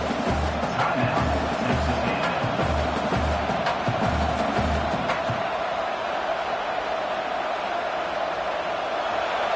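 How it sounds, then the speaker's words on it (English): Football stadium crowd at a Nebraska versus Texas A&M game, a broad roaring wash of cheering with rhythmic thumping at first, then a sustained steady din. "the crowd coming to life here trying to help this defense down in the red zone"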